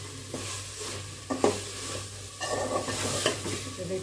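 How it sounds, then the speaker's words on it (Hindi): Chopped tomatoes fry and get stirred in a pan while cooking until soft, a steady close sizzle broken by several scraping stirs, with no talk. "इसको भून लेते हैं, अच्छा से पका लेते हैं टमाटर सॉफ्ट होने तक।"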